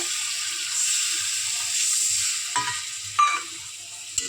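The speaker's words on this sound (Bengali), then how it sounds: "মশলাটা কষিয়ে নেবো, চিংড়ি মাছটাও দিই।" Spices and prawns sautéing in oil for a banana flower curry, a steady close sizzle and hiss with a few soft stirring scrapes and clicks.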